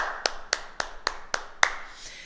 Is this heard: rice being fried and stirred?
no